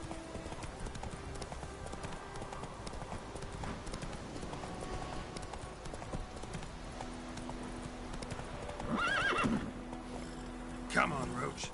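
Horse Roach in The Witcher 3 game, hooves clip-clopping at a steady gallop with two neighs toward the end, a voice speaking over the hoofbeats.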